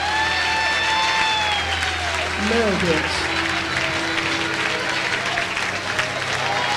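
A church congregation claps loudly together as a dense, sustained wash of applause. Scattered cheers rise over it, and a voice speaks briefly at the start.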